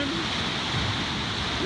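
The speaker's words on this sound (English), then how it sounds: "Here comes the white water, big time!" White water rapids on the Kennebec River's East Outlet rush past in a steady close roar, with a voice briefly heard over the churning flow.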